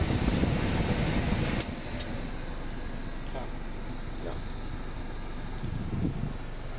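An air conditioner blows a steady, airy hiss, constant and fairly loud, with faint background sounds now and then.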